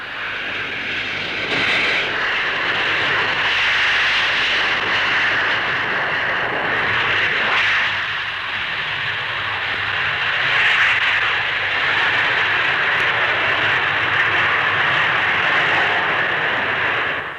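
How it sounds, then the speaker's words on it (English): A de Havilland Comet jet airliner with four Rolls-Royce Avon jets takes off at a Farnborough air show, a loud, steady jet roar holding for the whole stretch. "Powered by 4 Rolls-Royce Avon jets, its takeoff run is exceptionally short."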